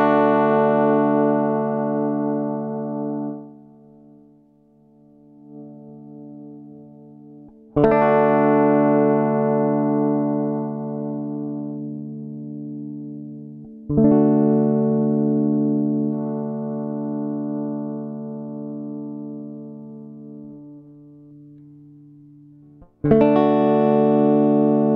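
Harley Benton DC kit electric guitar played through its knobs and switches, with long sustained chords struck three times and ringing out between strikes, loud and clear with no talk.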